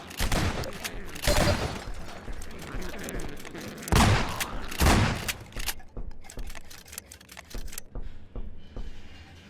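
Heavy shotgun blasts in Half-Life 2 RTX, fired in the Ravenholm area: several loud, booming close shots with crashing debris noise between them, thinning out toward the end.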